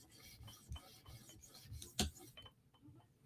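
Knife blade drawn across an 800 grit stone on a TSProf Kadet sharpener, a soft gritty rasping in a few quick strokes, with one sharper scrape about two seconds in and then a quieter tail.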